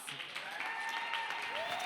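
A crowd applauds a dance company in a steady wash of clapping, with a few faint whistles cutting through.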